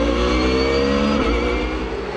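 Race cars accelerating together at the rolling start of a ROSCAR 120 race at Val de Vienne, a loud, layered engine roar rising in pitch that stays dense and close all the way through.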